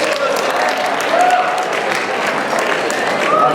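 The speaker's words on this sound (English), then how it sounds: "So, Mr. Wallace, round of applause." A school audience at a student lobster tank business presentation breaks into loud, sustained applause, dense clapping filling the room throughout.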